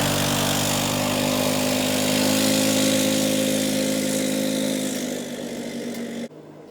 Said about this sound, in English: Power on the Sportsman comes from a 567cc dual overhead cam, 4-stroke single-cylinder engine